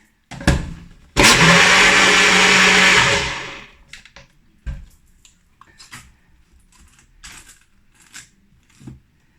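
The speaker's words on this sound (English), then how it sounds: "And I'm going to blend for another half a minute." Blender whirring at full power as it purees a kidney bean chocolate shake, a loud close roar lasting a couple of seconds that winds down, followed by scattered clinks and taps.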